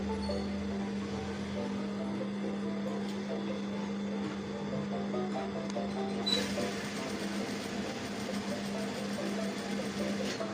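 A sewing machine stitches a fabric pocket in a steady, continuous mechanical hum with a rapid rattle, close and loud throughout, its pace quickening slightly partway through.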